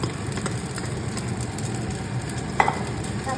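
Pansit bihon noodles are stirred and fried in a pan, a steady low sizzle with scraping stirs running throughout and one sharper clatter near the end.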